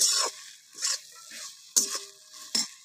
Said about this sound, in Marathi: हे बघा छान असं परतून घ्यायचं.